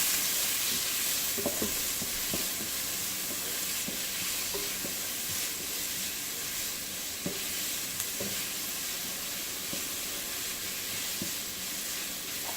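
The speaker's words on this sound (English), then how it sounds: "I'm going to add the chopped onion and the minced garlic. And saute this a bit." Chopped onion and minced garlic sautéing in a pot for Jamaican-style seasoned rice, a steady hissing sizzle throughout with occasional soft stirring clinks and scrapes, no talking over it.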